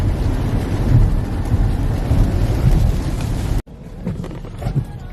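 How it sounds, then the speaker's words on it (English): Rain drums steadily on a car with low thunder rumbling beneath it, heard from inside the vehicle, before the sound abruptly drops to a quieter, muffled patter. "it is raining."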